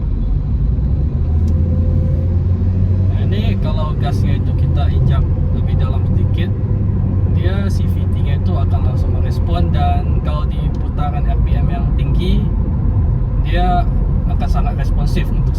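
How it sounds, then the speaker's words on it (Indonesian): A 2022 Toyota Veloz with a CVT accelerating as the gas is pressed deeper, a low steady engine and road rumble inside the cabin, while someone talks over it throughout. "Gasnya itu kita injak lebih dalam sedikit"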